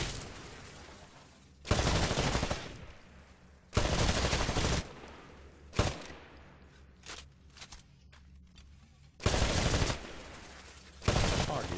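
Rifle shots fired at shooting-range targets in the video game Titanfall: several loud, sharp bursts of gunfire spaced a second or two apart, close and dominant, with quieter footsteps and clatter between them.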